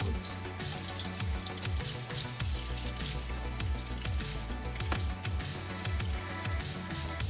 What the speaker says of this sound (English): As long as it's fried. That's what we want. We want it to fry.